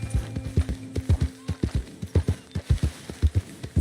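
Horse hooves galloping in the video game Red Dead Redemption 2 during a ride from Valentine to Rhodes, a fast, close, rhythmic clip-clop that runs steadily throughout.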